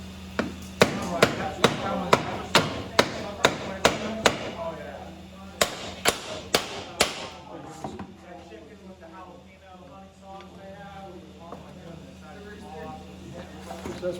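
Sharp hammer blows ring against a car differential during a DIY fluid change and gear inspection, about a dozen strikes in a steady rhythm, pausing, then a quick burst of several more, over a low hum and faint background talk.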